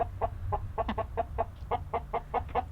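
A rooster clucks repeatedly while its wings are clipped on a homestead, a rapid series of short, close, fairly loud clucks with no talking.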